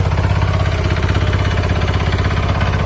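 The diesel engine of a Hanix H05 mini excavator runs steadily and loudly close by, with an even, throbbing idle and a knocking pulse throughout. No one talks over it.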